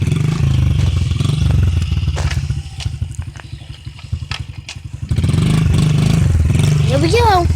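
Dirt bike engine revving as it is put in gear and pulls away, loud and close. A steady droning idle gives way to a choppy, pulsing stretch, then the engine surges again near the end.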